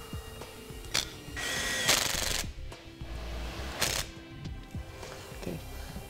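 Power drill with a 5/16 bit boring into a steel bracket for air helper springs on a vehicle's coil suspension, several short whirring bursts with pauses and clanks between.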